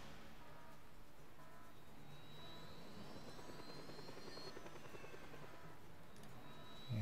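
A helicopter in the video game Just Cause 2, a faint, continuous rotor and turbine whine with rising and falling tones and no talking.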